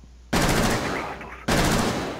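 Gunfire rips in two dense, sustained bursts in Rainbow Six Siege while shooting at armor. The loud automatic fire is near and continuous, with a brief break between the bursts.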